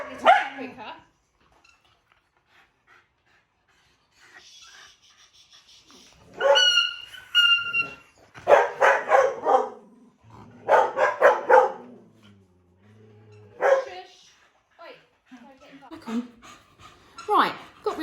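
Several dogs, including a shaggy one held for nail trimming, bark in sharp bursts and pant heavily, with whimpers between, while a person talks over and between the barks.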